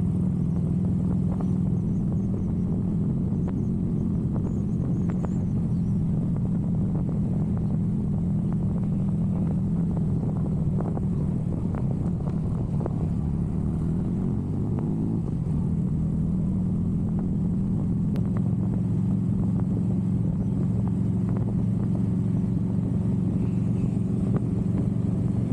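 Harley-Davidson motorcycles cruising the roads around Lake Tahoe, with a steady, loud low engine rumble and wind noise that continue unbroken throughout, close to the mic, with no talking.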